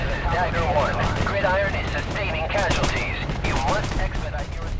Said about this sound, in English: When artillery shells land across the valley, you actually get the sound delay